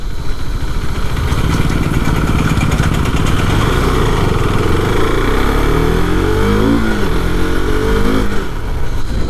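A KTM RC 390 motorcycle is ridden along a road, its engine loud and close in a continuous drone. The pitch rises and falls as the revs change near the end, with heavy wind noise underneath.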